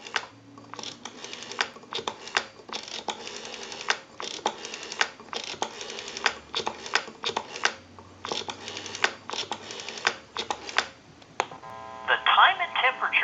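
A Stromberg Carlson 1543 rotary desk telephone is dialed, producing quiet groups of rapid clicks as each digit returns, followed near the end by a brief line tone.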